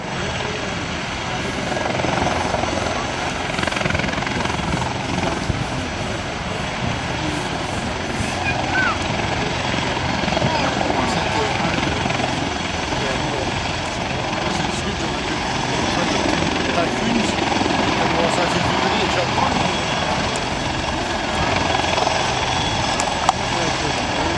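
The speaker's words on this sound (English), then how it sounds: "Goes the helicopters, Arthur." Helicopters' rotor chop and engine roar drone steadily throughout, loud and continuous, flying fairly close overhead at an air show.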